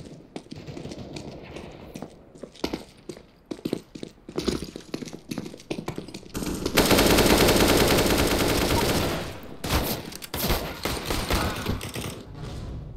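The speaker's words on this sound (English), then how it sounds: "Very good shooting." Rapid bursts of automatic gunfire from Counter-Strike: Global Offensive, a dense sustained volley in the middle with scattered single shots before and after, loud and close throughout.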